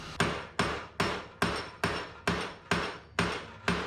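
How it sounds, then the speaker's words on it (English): A hammer strikes metal nine times at a steady, even pace while bending a piece for a car's battery tray build, each blow close and sharp with a short ringing decay. "I'm gonna hammer her at a pretty hard 90"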